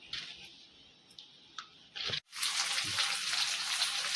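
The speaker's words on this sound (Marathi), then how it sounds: "कढीला उकळी आलेली आहे" Fish curry seasoned with ground turmeric and salt comes to the boil in a pot, giving a soft steady hiss and bubbling that swells after a brief silence and carries on close by without talk.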